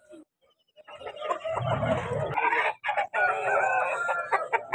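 A rooster crows loudly and close by at a rooster market in Vijayawada, one long strained call with other fowl clucking around it.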